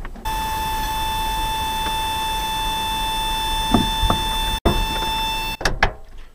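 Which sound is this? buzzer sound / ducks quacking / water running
buzzer sound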